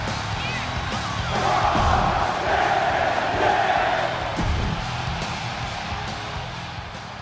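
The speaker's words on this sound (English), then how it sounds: "Oh man, the crowd is electric." A large arena crowd in the video game WWE 2K26 roars and cheers loudly, swelling in the middle and easing off, with a commentator's voice underneath.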